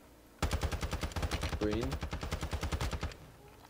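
Rapid automatic gunfire in Call of Duty Warzone, a loud sustained burst of fast evenly spaced shots lasting almost three seconds, with a brief voice heard over it.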